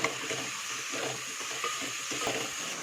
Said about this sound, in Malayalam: ബ്രൗൺ കളർ ആവുന്നത് വരെ വഴറ്റിയെടുക്കുക